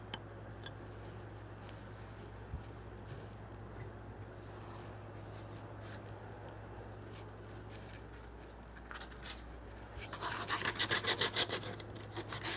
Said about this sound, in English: I'm just sanding it so it's, when I try to put it in the mortise, it slides a little easier without catching and ripping pieces of wood